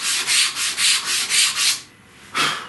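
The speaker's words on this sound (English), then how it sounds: "I made this explicitly for sanding 18mm dados." A sandpaper-wrapped wooden block rubs back and forth in an 18mm dado cut in shelf stock, giving a rhythmic series of close, scratchy strokes, with a short pause before one last stroke.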